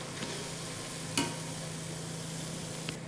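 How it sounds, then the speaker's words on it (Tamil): Green pea vada fry in oil with a steady, even sizzle throughout, broken only by a faint tap or two. "எண்ணெயில் போட்டு பொரிச்சு எடுத்துக்கலாம்"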